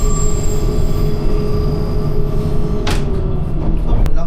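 Train rolling steadily on rails toward an airport terminal stop, a continuous loud rumble with a brief high wheel squeal near the end, faint voices in the background.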